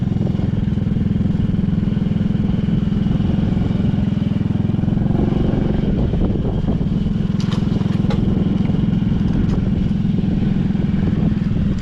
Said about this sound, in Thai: รถไถพี่น้องไง